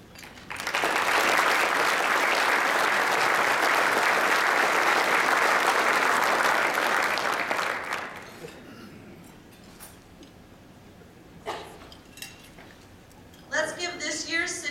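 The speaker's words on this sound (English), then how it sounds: "Let's give this year's City Design Awards of Excellence recipients a round of applause." Loud, sustained audience applause fills a business awards ceremony honoring City Design Award recipients, then fades into quieter room noise with scattered clinks and brief voices toward the end.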